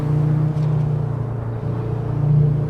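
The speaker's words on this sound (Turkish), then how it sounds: "Bak dördüncü vites 80 km aldı ama zorlanıyor araba" A Volkswagen Golf MK7 engine in the racing game Assetto Corsa drones steadily in fourth gear around 80 km/h, straining under load with a continuous low hum that swells slightly near the end.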